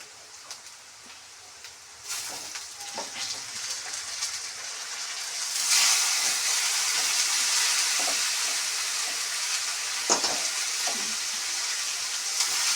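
Chicken pieces dropped into a hot pan set off a loud, close, rain-like sizzle that swells and holds steady, punctuated by occasional utensil knocks.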